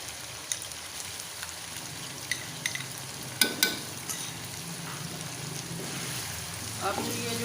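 Ginger garlic paste and crushed green chillies frying in hot oil for aloo palak bhujia, a low steady sizzle with occasional stirring clinks and scrapes, fairly quiet and even.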